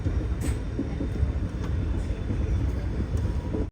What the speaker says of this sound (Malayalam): വണ്ടി ഒരു റെയിൽവേ സ്റ്റേഷനിലേക്ക് എത്തിക്കൊണ്ടിരിക്കുക